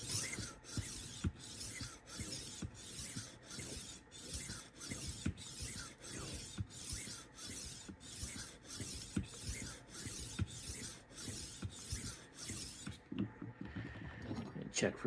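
A knife is drawn repeatedly across the 2000 grit disc of a rolling sharpener, making a steady run of close, rhythmic rasping strokes that end abruptly with a brief clatter.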